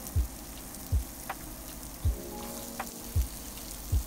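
Chopped celery sizzles in a pan while chicken curry is being cooked, a soft, steady frying hiss with several quiet knocks of a utensil against the pan at regular intervals, and no voices.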